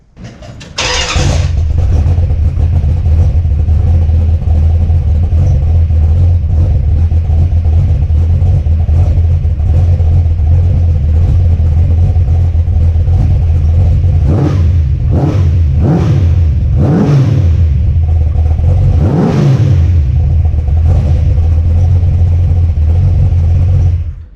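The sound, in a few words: Dodge Ramcharger engine running after ignition upgrade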